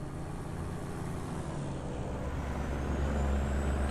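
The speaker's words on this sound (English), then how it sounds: "Let's get that engine brake on. It's Jake brake. Sounds pretty good in this truck." Jake engine brake on a Peterbilt 389 truck with a Cat engine in American Truck Simulator, a steady low rumbling drone that swells slightly toward the end, with no talking.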